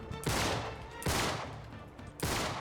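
Gunfire in the Uncharted 3 video game: three loud, sharp broadband bursts about a second apart, each decaying briefly, with no talking over them.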